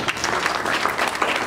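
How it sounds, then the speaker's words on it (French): Brief, dense applause from a conference audience for the vice prime minister in charge of environment and sustainable development in DR Congo, a steady wash of clapping filling the whole moment. "Merci d'applaudir notre vice-première ministre en charge de l'environnement et du développement durable"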